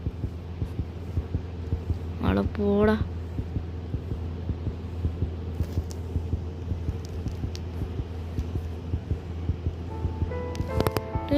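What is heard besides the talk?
heartbeat sound in Granny video game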